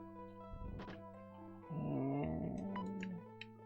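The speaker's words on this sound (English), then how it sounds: "Stay out of the way of the explosion." A quiet explosion in the Ultima 6 video game, a thud followed by a low, rumbling roar lasting about a second before it fades.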